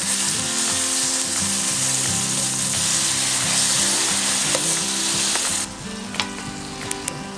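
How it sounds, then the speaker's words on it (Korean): Marinated LA short ribs sizzle loudly in a hot pan, a dense continuous frying hiss that drops and thins near the end, with a few sharp clinks of cooking utensils. "이제 본격적으로 숙성된 갈비를 구워봅시다"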